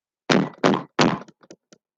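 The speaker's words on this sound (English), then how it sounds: "Oh, I knocked." Three heavy, loud knocks on a door come in quick succession, followed by a few faint, light taps that trail off.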